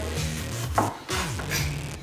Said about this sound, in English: I'm just gonna proceed to cut my tomatoes.